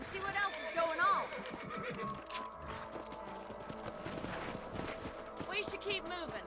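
Horses galloping in the video game Red Dead Redemption, steady hoofbeats with a whinny, mixed under in-game talk and background score.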